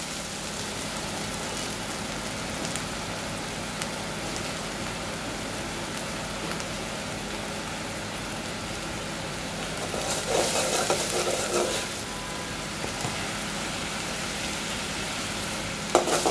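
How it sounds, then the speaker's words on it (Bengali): Onion paste fries in hot oil seasoned with radhuni, giving a steady close sizzle throughout with brief louder crackling bursts near the end. "তো তেলে দিয়ে দিলাম একটু রাঁধুনি হালকা। তো রাঁধুনিটা একটু গরম হয়ে গেছে, এবার দিয়ে দিচ্ছি পেঁয়াজ বাটা।"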